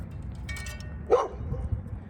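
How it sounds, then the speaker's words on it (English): A dog gives a short bark or yip, fairly close and moderately loud, after a brief chirpy patch of sound, with low background noise throughout and no one speaking. "their dogs learned to bark too"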